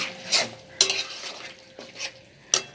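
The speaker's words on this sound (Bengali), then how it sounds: "এবার দিয়ে দিচ্ছি কিছুটা মটরশুঁটিটা দিয়ে নেড়ে চেড়ে" Green peas tossed into a frying curry roast get stirred in a pan: sharp spoon scrapes and clinks come in four distinct bursts over a soft background sizzle, close and fairly loud.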